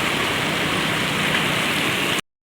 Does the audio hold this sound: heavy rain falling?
yes